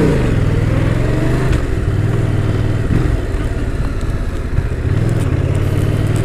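A Honda CBR1000RR sport motorcycle engine with a quiet exhaust idles and revs in steady bursts, fairly loud and close, with rising and falling pitch and no talking.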